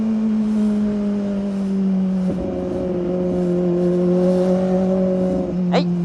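A Kawasaki ZX25R motorcycle easing off speed, its engine a steady high-pitched drone that sinks slightly in pitch, with wind rushing past a close microphone throughout.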